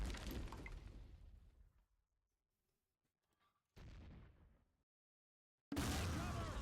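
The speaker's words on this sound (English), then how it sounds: "Artillery! Just lost 2 men with that strike." Artillery strike in the war game Close Combat Modern Tactics, set during a UN peacekeeping operation: a heavy crashing blast that slowly decays, then two more loud bursts after a near-silent gap.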